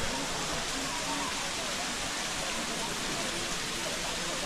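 A waterfall at a bathing spot on the ride from Mumbai to Lonavala, running with reduced flow after the rains, gives a steady dense rush of falling water that fills the whole clip.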